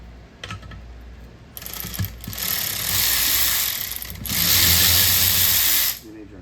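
Ratchet wrench with a swap socket turning a TPMS sensor collar on a Toyota 4Runner wheel, with loud, steady mechanical clicking in two long bursts, faint voices in the background.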